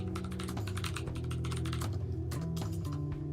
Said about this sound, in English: It gives very nice sound, just like usually, like mechanical keyboards do.